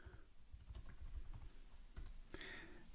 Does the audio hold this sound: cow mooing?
no